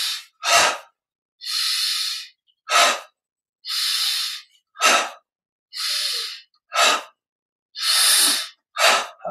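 Sharp, forceful breaths during a Yogoda energization breathing exercise, alternating quick gasping inhales with longer hissing exhalations in a steady, close rhythm of about a dozen breaths with short silences between and no talking.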